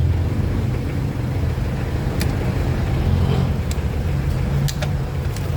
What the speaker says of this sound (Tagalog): medyo maingay lang dito guys sa shop